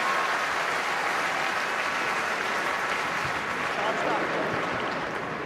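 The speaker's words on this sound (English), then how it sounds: "just the smiles and the applause from everybody here at the Kingspan Stadium" Stadium crowd at Kingspan Stadium applauding at an Ulster versus Barbarians rugby match, a dense, steady roar of clapping from a large crowd that holds constant throughout, with a voice faintly audible beneath.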